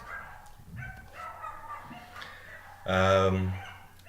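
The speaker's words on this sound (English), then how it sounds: "The dogs, sorry about that." Dogs bark in a short burst: a few soft yips and woofs early on, then one loud, close bark near the end, with no talk over it.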